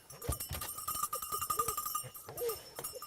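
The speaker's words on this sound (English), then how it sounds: "I like to use a dog bell just because of the tradition of being able to hear the dog" A bell on a hunting bird dog jingles nearby in the field, a rapid, irregular series of bright metallic clinks with faint rustling, moderately quiet and with no clear talk.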